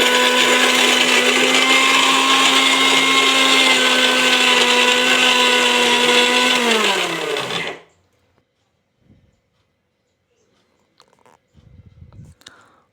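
An electric blender loudly grinds ingredients into a coarse paste for Kolhapuri stuffed eggplant. The steady, high whirring motor runs for about seven and a half seconds, winds down abruptly, then gives way to near silence and a few faint knocks.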